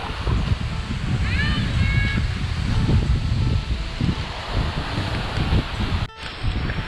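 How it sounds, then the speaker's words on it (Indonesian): The waterfall at Grojogan Sewu in Tawangmangu roars as a constant broad rush of falling water, with a brief high chirp and a voice or two heard faintly over the spray. "hari ini kita udah sampai di titik pusat air terjun."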